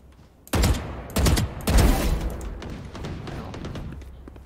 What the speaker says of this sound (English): burst fire is definitely great for Vandal